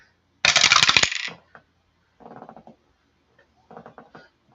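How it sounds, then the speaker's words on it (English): Dice are rolled for the APBA baseball board game, with one loud, sharp rattle and then two quieter tumbling clatters, each short and separated by silence. "We'll have to re-roll the dice here."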